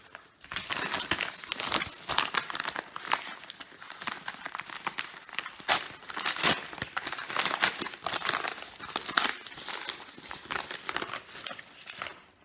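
Protective paper crumpled and crinkled while unboxing a mailed package of e-liquids, a close, busy run of rustling and crackling bursts that carries on steadily throughout with no talk.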